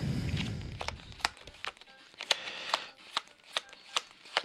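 Tarot cards are handled and flipped on a table, giving a series of crisp, close slaps and flicks roughly every half second after a soft rustle at the start.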